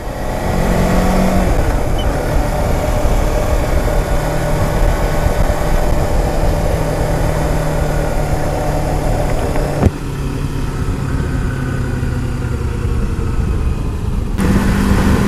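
A Kawasaki Versys X-250 motorcycle engine drones continuously while riding, buzzing steadily with wind noise and shifting revs, and the tone changes abruptly partway through.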